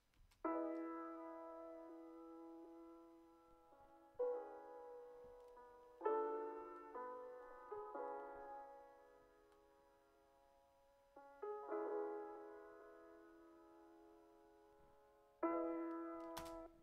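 A time-stretched music sample of sustained tonal chords entering in separate swells, each striking then slowly fading, quiet and smooth with long sparse gaps between phrases.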